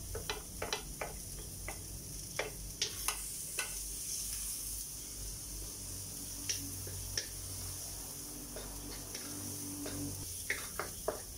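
Chopped onions sizzle in a pan while Filipino coconut-milk cooking is under way, a steady low frying hiss broken by scattered sharp clicks and taps of a utensil, close and fairly quiet throughout.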